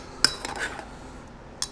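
Grilled peach salsa with jalapeno and red onion is gently mixed in a bowl: a few quiet clinks and scrapes of a utensil against the dish, spaced out, close and soft.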